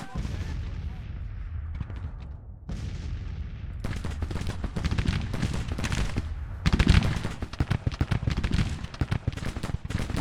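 Musket volleys in the Civil War strategy game Grand Tactician, a dense, continuous crackle of rifle fire near and far, with bursts growing heavier toward the end and no voices over it.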